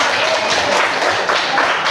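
A class breaks into applause for a student named Azra after she answers in a lesson, a dense, steady patter of many hands clapping at close range for a couple of seconds.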